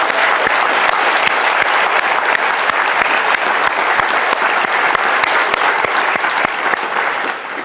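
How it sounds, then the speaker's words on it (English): Sustained applause from a large crowd at a college graduation ceremony at Queens' College, Cambridge, steady dense clapping that fills the whole stretch and eases off slightly at the end. "can we give them a round of applause as well, please?"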